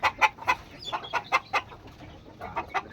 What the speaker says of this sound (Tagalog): Yan ang sisiw ng kaber.